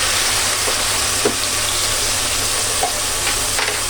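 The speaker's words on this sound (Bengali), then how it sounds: "এখন আমি এটাকে ভেজে নিব, যেন কাঁচা কোনো গন্ধ ভাব না থাকে" Onion paste fries in a pan, a loud, close, continuous sizzle with a couple of faint stirring taps and no talking.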